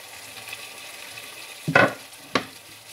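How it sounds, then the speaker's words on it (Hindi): Chopped tomatoes tipped into a pan of frying potato and eggplant, two sharp sizzling bursts a moment apart rising over a quiet background hiss. "यहाँ मैं जो टमाटर काट के रखा है वो भी डाल लेते हैं"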